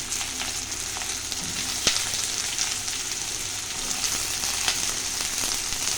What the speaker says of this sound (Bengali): আমি শিম আর বেগুন ছোট ছোট কেটে আর এই যে ধুয়ে আর আগে দিয়ে দিলাম।